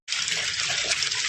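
Irrigation water runs steadily into a garlic field freshly weeded and manured, a continuous close hissing gush with no breaks and no voices.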